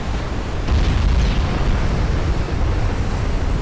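A battleship turret erupts in a flash fire during a naval gunnery battle between dreadnoughts, a loud, continuous roaring explosion with deep rumble that swells after a brief moment and holds steady throughout.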